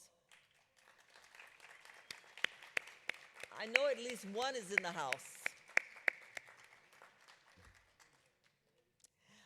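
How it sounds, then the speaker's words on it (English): At a nursing association's annual business meeting, a handful of scattered, sharp claps from the audience ring out under a person speaking, uneven and sparse, then fade to quiet. "give you a big round of applause"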